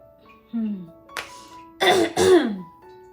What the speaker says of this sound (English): Let me clear my throat before I can speak.